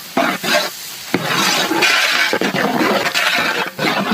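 Chopped onions sizzle and crackle in hot cow ghee for mutton biryani, with scraping and stirring sounds over a steady frying hiss.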